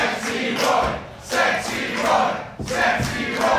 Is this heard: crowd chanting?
yes